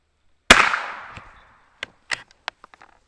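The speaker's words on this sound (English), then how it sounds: "So we're gonna shoot a group down there and see where they're hitting." A Glenfield Model 10 single-shot rifle fires one sharp, loud crack outdoors with a fading echo, followed by a few faint clicks and knocks of handling the action.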